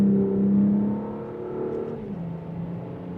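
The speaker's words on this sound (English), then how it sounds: "and here we go with the slight acceleration" A 2026 Audi S5 Premium Plus in dynamic mode gives a steady, moderately loud engine drone as it accelerates from inside the cabin, its tone settling lower partway through as a paddle-shifted gear changes, with no talking.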